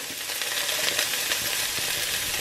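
Chopped leeks, celery and onions hit a hot pot for a vegan creamy potato leek soup, giving a steady bright hiss of sizzling with faint clinks and stirring, no voices.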